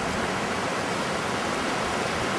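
Mountain stream rushing near a glacier on the Swiss side of the Matterhorn, a steady dense roar of water filling the whole clip, close and loud with no other sounds.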